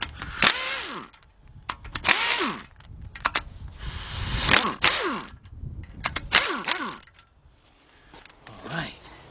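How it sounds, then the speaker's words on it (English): A 1/2-inch drive air impact gun removes long head bolts from the 3.7 engine of a 2003 Jeep Liberty Sport. It fires in several loud, close bursts of rattling hammering, each winding down with a falling whine, separated by short pauses. "got my 1/2" drive air gun now. Now let's get these bolts out of there."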